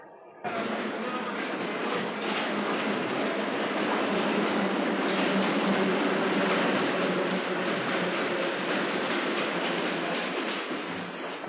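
A train rolls into a railway station, a steady loud rumble and rattle of carriages that starts abruptly and holds evenly throughout.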